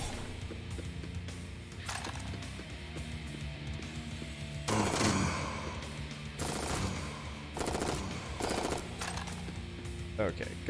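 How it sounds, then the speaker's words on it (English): Enemy gunfire in the sci-fi shooter game Jupiter Hell: repeated bursts of automatic fire crackle over a droning soundtrack, with someone talking over the action. "Thank you for shooting at me from extremely far away."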